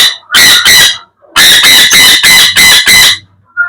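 A pair of sun conure parrots squawking loudly and close, two sharp shrieks followed by a rapid run of five more harsh, evenly spaced calls.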